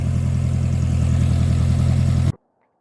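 A vintage 1977 Honda Hondamatic CB750A motorcycle engine idling loudly and steadily up close with a rhythmic, throbbing pulse, then cutting off abruptly into silence.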